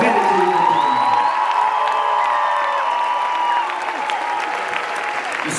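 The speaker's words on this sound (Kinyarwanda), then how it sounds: "nagira ngo mumpere amashyi menshi cyane nyakubahwa Perezida wa Repubulika," A crowd at a public gathering in Rwanda gives loud, sustained applause for the President of the Republic, with whoops and high cheering voices riding over the continuous clapping.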